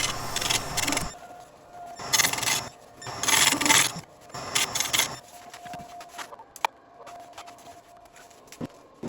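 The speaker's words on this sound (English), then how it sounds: "Some final shaping and smoothing out is done with a scraper." Hand scraper shaping and smoothing a wooden bowl made of soft, porous burl and resin, heard as several bursts of raspy rubbing and scraping strokes, close and moderately loud, with short pauses between passes and faint ticks afterward.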